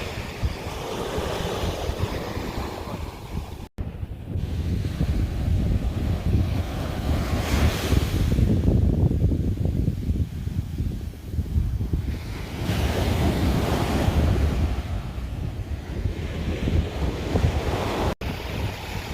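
Ocean waves roll onto Kuta beach, Lombok, in broad surging swells under constant wind buffeting the microphone, with no voices.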